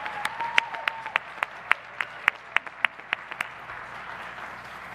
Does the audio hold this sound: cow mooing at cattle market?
no